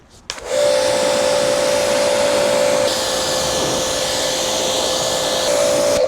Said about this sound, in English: So this Lance already has the 40-degree nozzle on it. Test it. Okay, we're good. Top to bottom.